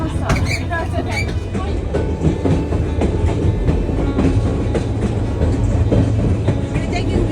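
White Pass railway train rolling past in Skagway, Alaska, a steady loud rumble with rhythmic clickety-clack of wheels on rails and faint squeals, heard from trackside throughout.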